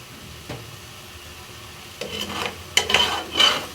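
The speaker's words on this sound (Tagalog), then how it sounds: "Ginisang sardinas with alugbati leaves" Sardines sautéed with alugbati leaves sizzle in a pan, with scraping stirring strokes that grow busier toward the end, close and fairly loud.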